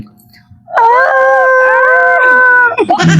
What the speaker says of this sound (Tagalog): Yung ungol mo, ganun pa din yung tunog.